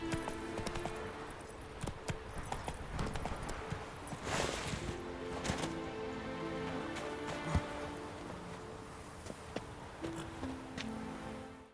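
Horse hooves clip-clop steadily through The Witcher 3 video game, a continuous rhythmic clatter beneath ambient game sound and scattered knocks.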